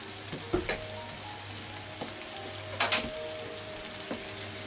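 Cabbage and tofu frying in a pan for a simple Japanese home dish, a soft continuous sizzle with occasional scraping and clinks of a utensil stirring.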